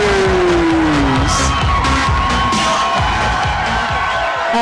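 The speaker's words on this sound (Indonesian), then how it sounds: "Tepuk tangan sekali lagi untuk Abro Fernandes." Loud crowd at a One Pride MMA semifinal event cheering and applauding for a fighter, a continuous dense roar filling the arena with whoops, while a voice briefly talks over it near the start.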